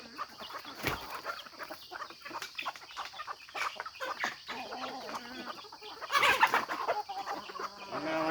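A backyard flock of mostly hens, including a newly released mother hen with her nine chicks, clucks and chatters steadily at close range, with busy overlapping calls and a louder burst of cackling near the end.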